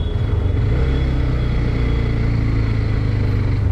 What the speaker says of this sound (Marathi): रस्त्याची कामं आहे त्यामुळे ट्रॅफिक झालं आहे